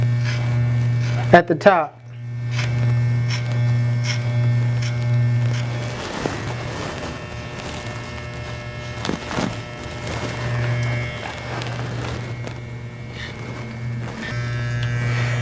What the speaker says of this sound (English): I'm taking my 2 open and setting another guideline.